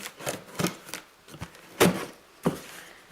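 Cardboard delivery box being opened up close: a quiet series of papery rustles, tearing and flap thuds, several sharper crackles spaced irregularly over a few seconds, no voices.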